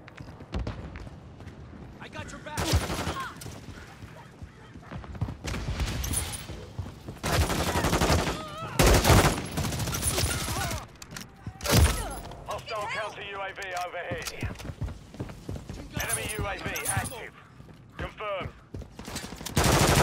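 Repeated bursts of automatic gunfire in a Call of Duty Kill Confirmed multiplayer match, loud and close in several volleys, with footsteps and game sounds between them and players talking over the action.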